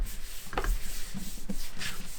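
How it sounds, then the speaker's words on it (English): A close, steady dry rubbing as paper is burnished down along the edge of a mini album cover, with a few faint taps and scrapes from handling. "we're going to burnish this down all the way around the edge and here in the center"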